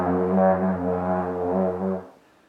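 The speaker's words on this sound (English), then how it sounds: "If you're getting a really low and weak sound like this," A trombone sounding a single low, weak, buzzy note from loose, untensed lips, held steadily for about two seconds before cutting off, heard alone and close.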